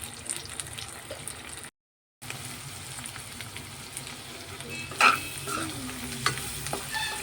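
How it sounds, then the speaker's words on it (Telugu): Salt, turmeric and chili powder fry with pieces for egg fried rice, a steady close sizzle with scraping stir strokes and one brief louder clatter, after a short gap of silence. "కొంచెం సాల్ట్, పసుపు, కారం అన్నీ వేసేసాను అనమాట. ఫ్రై చేస్తున్నాను."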